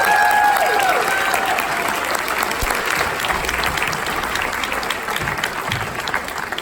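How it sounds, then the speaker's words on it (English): An audience at the Apollo Theater applauds after a film screening, with dense sustained clapping filling the hall and slowly easing off, a few voices faintly underneath. "let's just give another round of applause for that film"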